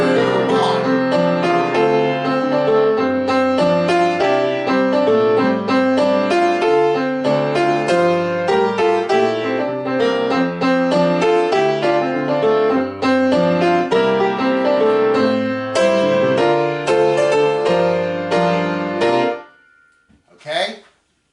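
Soprano section of a community choir singing a sustained melodic line alone, loud and continuous with clear pitched harmonics, ending abruptly into near silence.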